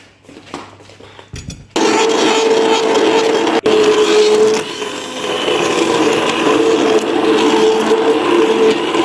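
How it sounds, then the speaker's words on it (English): A blender whirs steadily as it purées butter chicken gravy, starting abruptly after a few quiet bumps and running loud and continuous with a slight dip partway through. "Now we need to blend this gravy."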